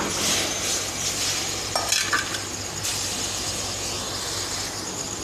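Half a kilo of onions sizzle and crackle in a hot pan with chopped tomatoes for desi chicken karahi, with a brief clatter of a utensil stirring partway through.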